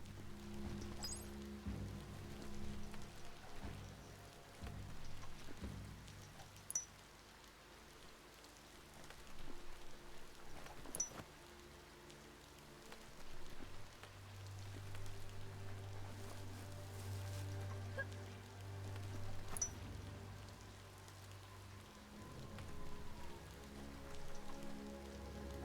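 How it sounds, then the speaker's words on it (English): Steady rain falls in the video game Biomutant, a soft, even patter under faint low ambient tones, with a few scattered drop ticks and no talk. "The rain's making it slick out."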